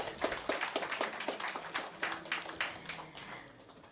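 A live audience at the grand inauguration of Apollo One on Pusa Road gives a brief round of scattered clapping, individual claps distinct and uneven, moderately close and steady for several seconds with no talking over it.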